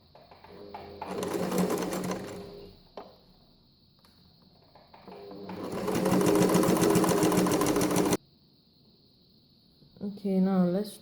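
An Empisal sewing machine stitching with a twin needle, running in two long fast bursts of rapid mechanical clatter separated by quiet pauses, with a voice speaking briefly near the end.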